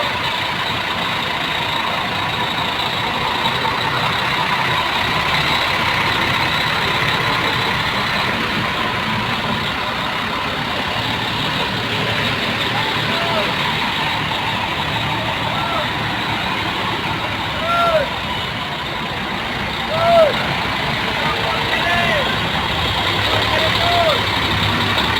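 A second Tronton coach bus bound for Palopo idles with a steady low engine rumble. Voices talk over it, and a couple of faint whistle-like chirps rise near the end.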